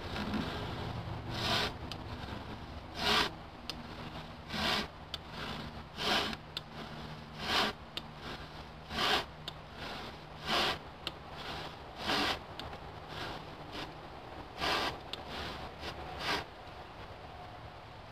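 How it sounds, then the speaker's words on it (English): A hand saw rasps through timber for timber framing in steady, repeated strokes, each push a short scratchy burst, continuing evenly with faint background hum. "Again, only sawing what I can see."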